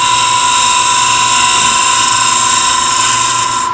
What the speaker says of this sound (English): This is a bowl gouge cut for the inside